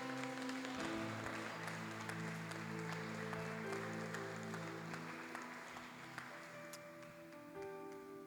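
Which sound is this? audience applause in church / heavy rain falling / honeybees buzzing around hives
audience applause in church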